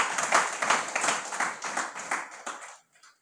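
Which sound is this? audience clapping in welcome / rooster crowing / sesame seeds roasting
audience clapping in welcome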